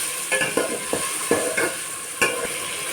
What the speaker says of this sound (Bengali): সজনা আর আলুটাকে ঢেলে দেব।